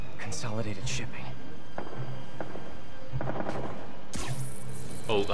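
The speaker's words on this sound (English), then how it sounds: "Oh, I believe that's gunfire." Gunfire in Marvel's Spider-Man video game, several sharp bursts of shots scattered among game sounds, with talking mixed over the action.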